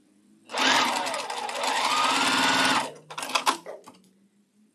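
A sewing machine stitches quilt block pieces for a pink sew-along block, running in one steady, fast burst for about two seconds, then several short, choppy bursts close by.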